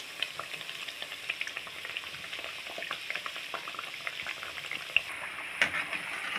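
Rice flour thattai fry in hot oil over a medium flame, giving a steady, dense sizzle with small crackles and pops throughout, close and fairly quiet, with no voices.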